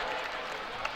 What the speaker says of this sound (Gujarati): આપણે સૌ સતત તાળીઓના નાદને વરસાવતા રહીએ